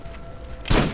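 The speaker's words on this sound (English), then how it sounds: "let's see how fast I shoot the shotgun now." A shotgun in Borderlands fires a single loud, abrupt blast late in the moment, after a brief stretch of quieter game ambience.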